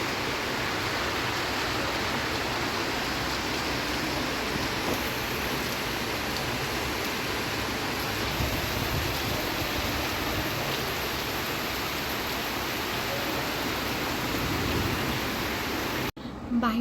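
Steady rain falls outside, a dense, continuous hiss that holds at an even level the whole time before cutting off abruptly at the very end.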